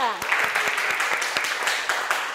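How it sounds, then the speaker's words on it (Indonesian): A classroom gives a short burst of applause for a student, quick claps from several pupils over a steady murmur of voices, lasting only a couple of seconds. "Tepuk tangan buat Nuraliza"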